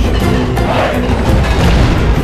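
Dense, continuous battle din from troops firing into a building in Rome Total War, with booming impacts and crashing clatter layered over a constant roar, loud throughout.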